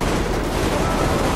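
Dense gunfire in the video game Metro Exodus crackles in a loud, continuous barrage of overlapping shots, with no gaps.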